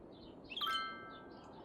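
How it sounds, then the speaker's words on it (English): A single faint bird chirp in the city-building game Cities: Skylines rises briefly, a short tweet with a thin trailing whistle, over a quiet background hush. "It's nice listening to the birds as we watch our city grow."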